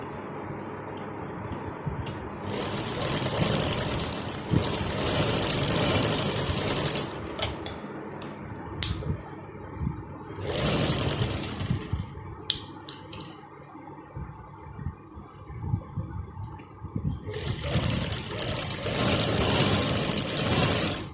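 Sewing machine stitching the seams of a frock bow, running in three steady mechanical bursts of several seconds each, with quieter handling of fabric between them and no talking.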